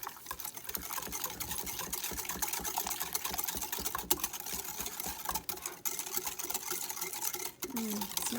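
Coleslaw dressing being whisked with sugar in a bowl, giving faint, quick, continuous tapping and clinking at close range.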